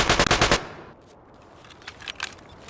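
A rapid burst of automatic gunfire in the video game Escape from Tarkov rings out at the start, followed by a few fainter, more distant shots.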